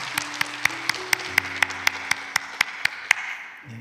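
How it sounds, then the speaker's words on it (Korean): A small congregation at a church mothers' prayer meeting claps together in a steady, even rhythm of about a dozen sharp beats. Sustained tones sound faintly underneath, and the clapping trails off at the end. "우리 크게 한 박수 할까요?"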